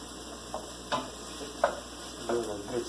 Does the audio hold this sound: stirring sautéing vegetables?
yes